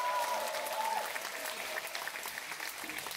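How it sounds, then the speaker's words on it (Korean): A crowd applauding a dancer at a concert, dense steady clapping filling the room throughout, with a voice briefly audible over it at the start. "박수 부탁드립니다"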